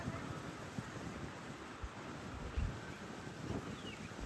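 Strong wind buffets the microphone with rumbling gusts and low thumps, steady and blustery throughout.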